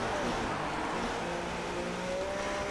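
An F1 race car in the video game F1 2016, during practice at the Chinese Grand Prix, drones faintly at a steady engine pitch, muffled and quiet with no other sounds standing out.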